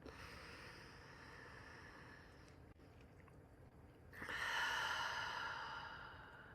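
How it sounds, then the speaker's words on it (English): Slow breathing into cupped hands, a soft, close, hollow rush of air that fades, pauses with a faint click, then swells into a longer, louder exhale near the end. "take a big breath here and just notice the sound of your breath"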